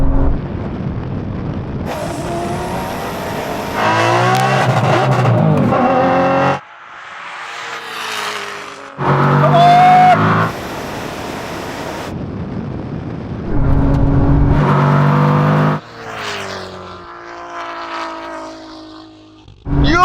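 Sports cars, one costing £3.5 million and one £180,000, race side by side in a drag race, their engines roaring loudly in repeated surging bursts that climb in pitch and then cut off sharply between gear changes.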